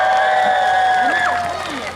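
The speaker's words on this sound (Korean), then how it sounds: "자 이럴 때도 박수를 한번 크게 부탁드리겠습니다" A concert audience gives loud, sustained applause and cheering that fills the whole moment and then tapers slightly, with a singing voice carrying over the crowd.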